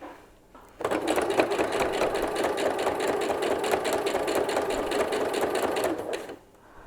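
A sewing machine runs a continuous burst of rapid, even stitching through hexagon quilt fabric for several seconds, loud and close, then stops abruptly.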